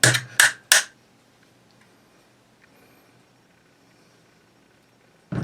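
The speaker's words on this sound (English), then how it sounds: "And then basically hammer the pin." Three sharp metallic hammer taps strike a pin on a Type 81 rifle in quick succession, close and loud, followed by near silence and a brief knock at the end.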